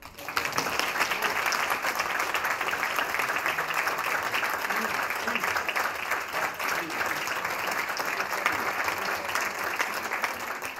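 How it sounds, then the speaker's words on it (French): Sustained applause from the audience at a municipal council meeting, steady dense clapping that fills the room for the full stretch without letup. "sous les applaudissements de l'assistance."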